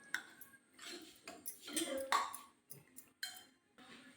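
A spoon stirs masala and garam masala together in a bowl for a papaya curry, giving intermittent close clinks and scrapes, with a voice talking briefly.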